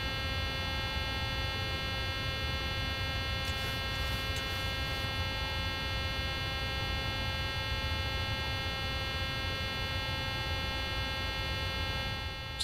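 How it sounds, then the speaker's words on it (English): A steady, unbroken electronic buzzer in a Boeing 737-800 cockpit in Microsoft Flight Simulator 2020 drones loud and constant for the whole stretch, with a faint brief click partway through and no talking. "Sorry about the buzzer."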